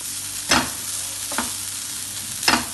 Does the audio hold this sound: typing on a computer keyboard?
no